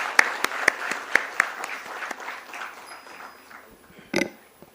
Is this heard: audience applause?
yes